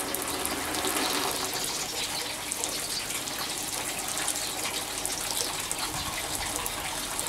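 A water pump sprays water through a half-inch hose like a sprinkler, making a steady, loud, close rushing hiss that runs unbroken from start to end with no voices.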